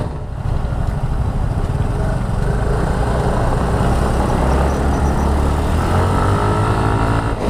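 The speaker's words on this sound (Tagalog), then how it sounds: "Sarap talaga guys pakinggan yung big bike mga inline 4" A loud, steady engine drone runs throughout, rough and rumbling, a big inline-four motorcycle idling and revving nearby.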